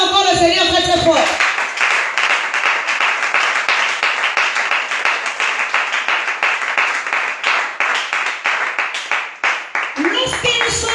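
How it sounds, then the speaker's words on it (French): A church congregation claps loudly and continuously for about nine seconds in a steady, dense rhythm, with voices heard at the start and the end. "Alors acclame encore le Seigneur très très fort"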